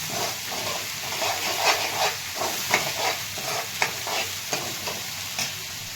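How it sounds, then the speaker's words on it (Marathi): Spice tempering sautéing in oil on medium flame for a village-style drumstick curry, steady frying sizzle with repeated scraping stirs of a spatula in a regular rhythm, close and fairly loud, no voices. "हे करून फोडणी परतून मिडियम गॅस करायचा, थोडीशी परतून घ्यायची, तेलकट परतून घ्यायची."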